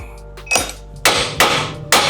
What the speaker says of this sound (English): When you're hitting it, hit it on the knuckle and not on the outer tie rod.